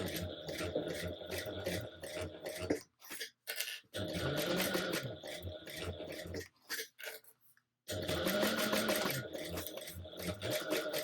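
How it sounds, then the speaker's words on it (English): A sewing machine stitches a handbag handle in long, steady runs of close, busy mechanical whirring, cut by a few brief stops and one longer pause before it starts again. "I'm going to sew 1/8 of an inch away between those two lines down each side"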